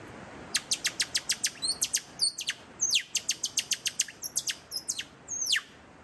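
Birds chirp in quick, bright bursts of repeated tweets, close and clear, with short gaps between phrases and no voices.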